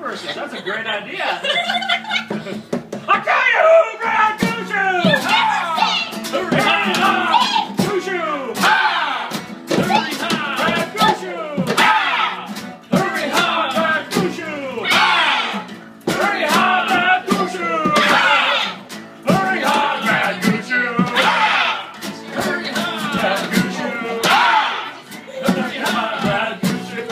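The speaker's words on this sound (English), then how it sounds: "Look at the crowd." A lively crowd yells, cheers and laughs in bursts of many overlapping voices, loud and close, with occasional thumps.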